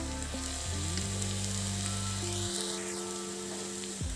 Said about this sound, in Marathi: याच्यामध्ये टोमॅटो टाकून आता परतून घेते